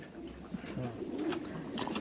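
Pigeons coo in a ground-level loft, soft murmuring calls close by over a low ambient hum.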